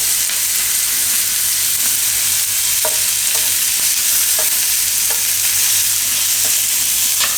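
Garlic roasts in a hot pan with cashews added shortly after, giving a steady, loud broadband sizzle and hiss. Faint clicks of stirring sound now and then, and no one talks.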